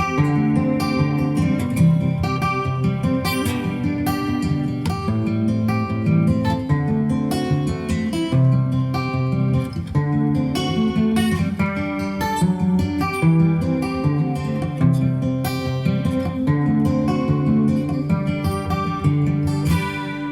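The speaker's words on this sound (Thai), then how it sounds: "สำหรับเอฟเฟกต์คอรัสนะครับก็จะช่วยเพิ่มความหนาให้กับเสีย งได้" Steady instrumental music with a thick, shimmering chorus effect from a Soundcraft Notepad-8FX mixer, playing loudly and continuously without any talking.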